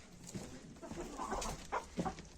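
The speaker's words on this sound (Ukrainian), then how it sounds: "Кури." Soft clucking from a few hens, a handful of short bursts scattered over faint background noise, fairly close and quiet.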